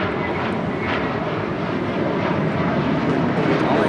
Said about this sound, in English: That is JetBlue 324 departing to JFK on a freshly minted A321.